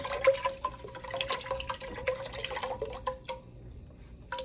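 Vegetable broth poured into a cooking pot, with a soft, close liquid trickle and splashing dribbles that trail off near the end.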